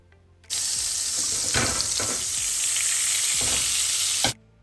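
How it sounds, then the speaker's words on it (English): Butter sizzles and bubbles loudly in a hot frying pan before salmon is cooked, a steady crackling hiss that starts abruptly and cuts off after a few seconds. "So it is just bubbling away so vigorously."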